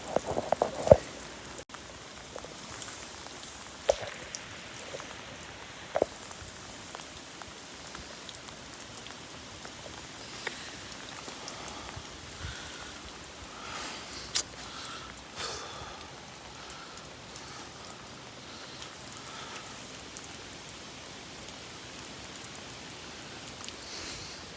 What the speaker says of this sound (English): Currently getting lake effect rain.